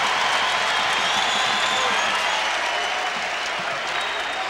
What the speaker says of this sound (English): Crowd gets into the game.